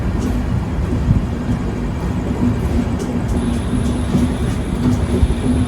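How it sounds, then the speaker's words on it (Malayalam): A double-stack goods train rolls past alongside a moving express on an Indian railway, a loud steady rumble of wheels on track with faint squeal and rattling, close by and continuous. "നമ്മുടെ ഇപ്പുറത്തൂടെ പോകുന്ന ഗുഡ്സ് ട്രെയിന് ഡബിൾ സ്റ്റാക്ക് ആണ് കണ്ടോ"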